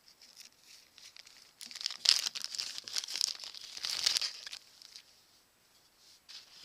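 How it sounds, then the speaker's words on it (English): Crinkling plastic bag as a lathe chuck key is pulled out of it, a close, quiet run of rustling and crackling that swells in the middle and fades away. "Now let's go ahead and take the chuck key out of the bag."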